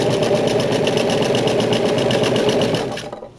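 A sewing machine stitches shorts panels, a front piece and pocket piece placed right sides together, running as a loud, fast, even rattling hum for about three seconds before winding down and stopping.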